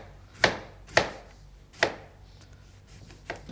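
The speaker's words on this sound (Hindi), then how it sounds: "इस तरह के बैंगन के पीसेस काटने हैं आपने।" A knife chops eggplant into medium pieces on a board, giving four sharp, separate thuds at an uneven pace, close and clear against a quiet background.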